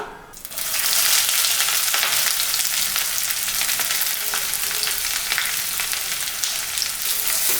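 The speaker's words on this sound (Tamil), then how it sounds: "வெங்காயம் நல்லா வதங்கி வரட்டுங்க" Onions and chopped garlic frying in hot oil for a South Indian fish curry, a loud, dense, continuous sizzle close up, holding steady for several seconds with faint stirring.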